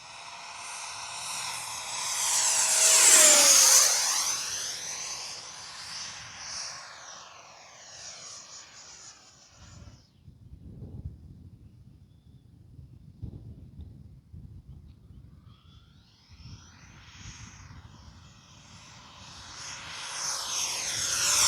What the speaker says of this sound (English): I'm gonna shut up and just let you hear the jet, man, because the flight speaks for itself.